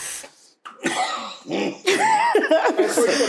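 Coughing and throat clearing in a lively indoor setting, several short rough bursts mixed with laughter and chuckles, close and fairly loud, with people talking in between.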